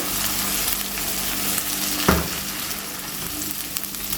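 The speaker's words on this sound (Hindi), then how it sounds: "1 टेबल स्पून भर के डाल देंगे अदरक लहसुन पेस्ट। इसका भी कच्चापन ख़त्म होने तक पकाएंगे।" Steady close sizzling of ginger garlic paste frying in a hot pan, with a brief clatter of stirring partway through; no voices.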